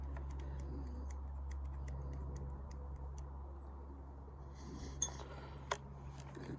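Priming the pan of a flintlock musket during a military-reenactment-style loading drill brings a string of light, close metallic ticks and clicks, quiet overall, ending with two sharper clacks near the end and no talk.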